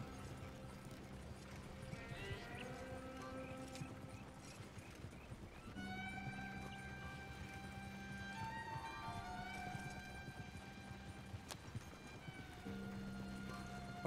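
Horse hooves clip-clop steadily in the open-world game Red Dead Redemption 2, a continuous trotting rhythm mixed with in-game ambience and faint musical tones.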